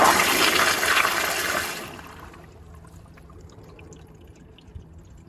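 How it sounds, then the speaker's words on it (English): A Toto CT705 toilet on a piston flushometer flushes with a loud rushing surge of water that fades after about two seconds into a quiet refill trickle. "It took two flushes to get them down."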